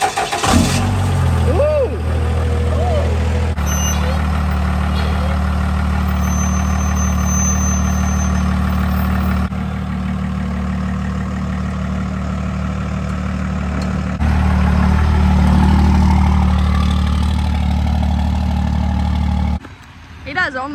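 A monster truck engine cranks, catches and settles into a loud, deep, rumbling idle that stays steady and close, rising briefly before cutting off near the end, with people exclaiming and chatting over it.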